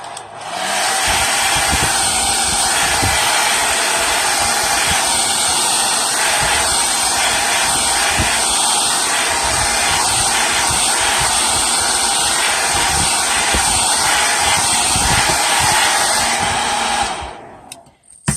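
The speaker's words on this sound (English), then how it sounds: "pull out a heat gun or a hair dryer" A hair dryer or heat gun dries coffee-dyed paper, its steady loud blowing hiss and motor whine running close and unbroken for about seventeen seconds before switching off, with no talking.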